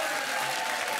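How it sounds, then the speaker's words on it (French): Steady applause from a television studio audience, a dense wash of clapping that holds evenly for about a second. "Évidemment, on vous applaudit, merci d'être là."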